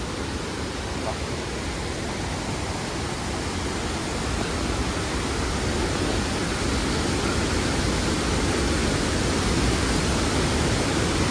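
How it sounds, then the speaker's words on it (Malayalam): Ripple Waterfall in Munnar, Kerala, roars continuously, a dense, even rush of water that stays loud and unchanging from start to finish. "ഇത് വെള്ളച്ചാട്ടത്തിന്റെ നടുക്കാണ്"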